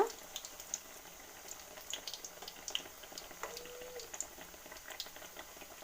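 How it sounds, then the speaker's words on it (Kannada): Chicken nuggets frying in oil on the stove, a soft, steady bubbling sizzle with faint crackles and occasional pops throughout. "ಎರಡು ಸೈಡ್ ಚೆನ್ನಾಗಿ ಫ್ರೈ ಮಾಡ್ಕೊಳ್ಳೋಣ."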